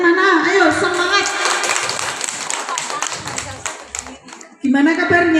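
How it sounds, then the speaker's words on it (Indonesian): An audience claps hands in a quick, dense patter of taps, mixed with voices and music, fading toward the end before a voice returns. "Tepuk tangannya mana? Ayo semangat."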